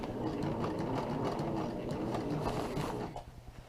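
A sewing machine runs in a fast continuous stitching burst as it sews an ultralight tarp, a busy mechanical patter close by before stopping abruptly near the end, leaving a few faint clicks.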